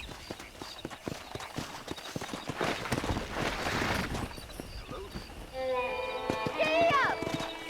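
Wild horses in Red Dead Redemption, with hoof clip-clop throughout and a whinny near the end, heard under game dialogue.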